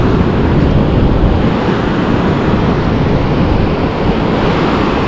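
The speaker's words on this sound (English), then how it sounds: "The waves are a little big." Big ocean waves breaking continuously, a loud, steady broadband roar of surf mixed with wind buffeting the microphone, with no pauses throughout.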